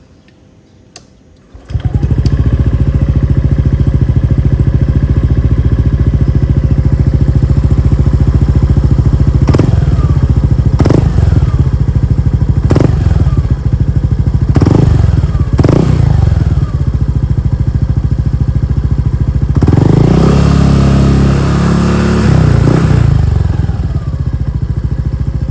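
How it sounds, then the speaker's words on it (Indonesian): Motorcycle fitted with a Villain SR01 condom-style aftermarket exhaust starts, idles with a deep steady drone, then gives several sharp revs and a longer rev near the end, very close and loud. "ini adalah bunyi knalpot Villan"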